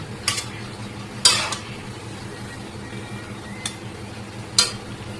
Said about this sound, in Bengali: এভাবে আমি আর একটাও ভেজে নিচ্ছি আর আপনাদেরকে দেখিয়ে দিচ্ছি কীরকম ভাজতে হয়।